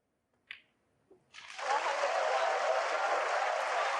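A snooker crowd at the 2024 Shanghai Masters final applauds a century break, the clapping swelling quickly after a couple of faint clicks into sustained, even applause that fills the hall.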